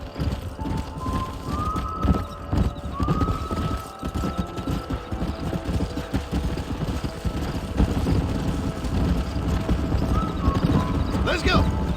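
Horses in the Red Dead Redemption video game, steady hoof clip-clop running through a busy game soundscape, with a faint rising whistle-like tone early on and voices talking intermittently.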